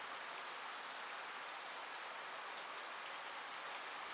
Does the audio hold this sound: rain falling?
yes